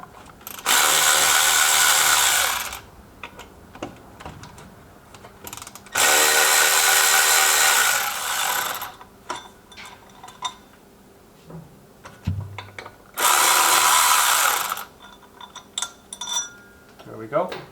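A power drill spins out 5mm Allen hex socket screws from the primary clutch cover of a KRX S2, in three loud bursts of about two seconds each. Quieter clicks and handling noises fall between the bursts, and a voice speaks at points.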